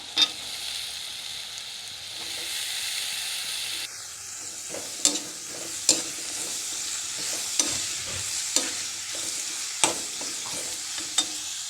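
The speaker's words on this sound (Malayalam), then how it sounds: "ഇതിലേക്ക് നമുക്ക് അരി വെച്ചേക്കുന്ന പടവലങ്ങയും കൂടി ഇട്ട് കൊടുക്കാം" Sliced snake gourd stirred in with softened onions in a pan sizzles continuously, broken by a series of crisp spatula clacks and scrapes against the pan at irregular intervals; no talking.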